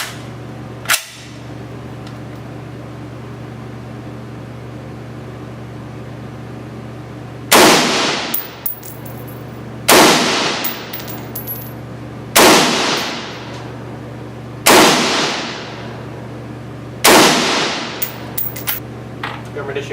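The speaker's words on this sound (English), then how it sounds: "I'm going to shoot target number 3 with the P mag." FN SCAR 16 rifle fired at a range target, one sharp shot followed after a pause by five loud, evenly spaced reports, each ringing out and decaying, over a steady low hum.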